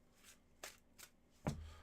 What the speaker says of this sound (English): Here are your 9 official shuffles.